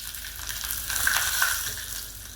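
Curry leaves go into hot oil with mustard seeds for tempering, giving a steady, moderately loud sizzling hiss that swells briefly in the middle and then eases off.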